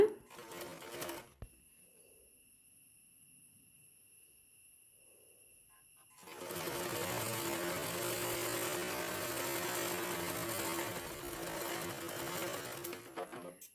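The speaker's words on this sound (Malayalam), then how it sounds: "ഒന്ന് മടക്കി വീണ്ടും മടക്കി സ്റ്റിച്ച് ചെയ്തെടുക്കുക." A sewing machine stitches a double-folded hem on an umbrella skirt, a short burst first, then a quiet pause, then a long steady whirring run up close.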